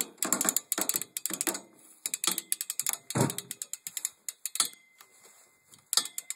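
A hand-cranked winch on a wood-hauling trailer clatters out rapid bursts of ratchet clicks, close and loud, in uneven runs separated by short pauses.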